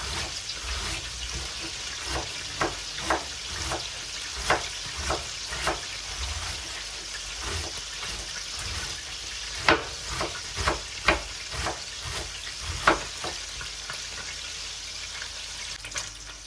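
A knife finely shreds cabbage on a board, a run of crisp rhythmic chops and cuts over a faint background hiss, with quieter stretches between bursts.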